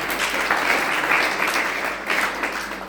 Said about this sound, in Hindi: बहुत सुंदर क्वेश्चन, ताली मारो इनके नाम पे